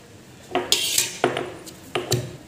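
Cumin and black pepper pounded in a clay pot, giving a handful of sharp knocks and clinks in an uneven rhythm, close and moderately loud, with no talk over them.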